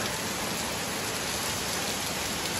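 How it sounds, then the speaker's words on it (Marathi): Rain pours steadily outside a farmhouse, a dense, even hiss of falling water that fills the whole moment without pause and with no one speaking. "मस्त पाऊस पडते बाहेर ना"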